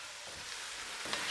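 Garlic, carrots, onions and leeks sizzle in a pot as they are stirred, a steady close frying hiss with faint scrapes and no talking.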